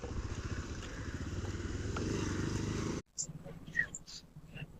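Motorcycles riding off-road during practice for a Ladakh trip, a steady clattering engine drone that cuts off abruptly, followed by quieter, scattered sounds with voices.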